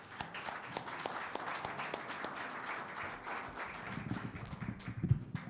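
Faint, scattered applause from an audience welcoming a doctor at a medical talk, light crackling claps that swell slightly toward the end.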